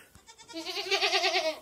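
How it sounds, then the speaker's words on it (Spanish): Several small mini goats bleating close by in a farm pen, a string of wavering nasal cries running together for about a second, clear and moderately loud with no talk over them. "Darko, no asustes a las cabras"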